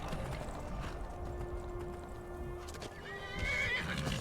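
A reindeer ridden as a mount in a video game whinnies and neighs while hooves clip-clop steadily, with faint mechanical clicks in the background and a louder whinny near the end.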